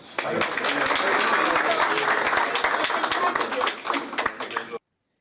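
Dense audience applause after a political candidacy speech, loud and sustained for about four seconds with scattered sharp claps, then cutting off abruptly.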